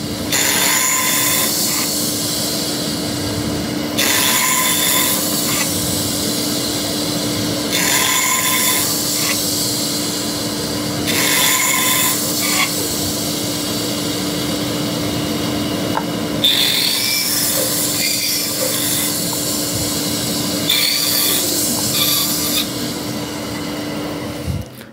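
A saw makes a series of repeat cuts in wood for a boot rack, each pass a loud rasping burst over a constant motor hum, about six cuts in a steady rhythm.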